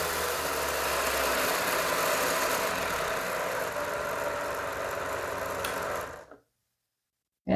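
A small RC car electric motor runs steadily on a test bench with a high, buzzing whine, then cuts out abruptly into silence near the end, with no talking.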